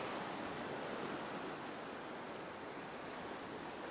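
Ocean waves wash onto a beach in a soft, steady, faint hiss of surf with no distinct breaks and no other sounds.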